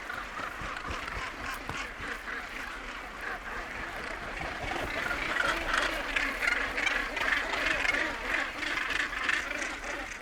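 A seabird breeding colony on the Welsh coast calls continuously, thousands of overlapping squawks and cries forming a busy chorus that swells louder midway, with a faint low rush of surf beneath.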